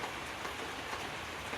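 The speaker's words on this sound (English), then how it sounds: "these last 4 panels were all put up actually in the rain" Rain falls on a newly built roof of panels, a dense, steady patter with no gaps and no voices.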